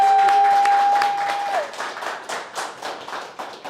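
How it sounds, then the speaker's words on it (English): An indoor audience at a leadership summit applauding, a steady patter of many hands clapping that thins out toward the end, with a brief tone sounding at the start. "Can y'all just give a hand clap for the people who've been participating online as well?"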